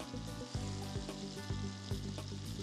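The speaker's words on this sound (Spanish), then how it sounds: "Estoy dorando el pollo." Chicken browning in a hot pan for an orange chicken dish sizzles and crackles steadily and close up, with faint stirring clatter and no talking.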